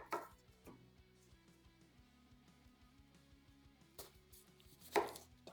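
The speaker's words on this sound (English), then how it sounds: "let's just rough chop half an onion" Half an onion is rough-chopped with a knife on a board: a few sparse, sharp chops separated by pauses, quiet overall, set against a faint steady hum.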